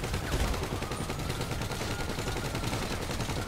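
Dense gunfire from the video game GTA 5 crackles in a continuous, rapid stream of overlapping shots, loud and close, with no clear gaps throughout.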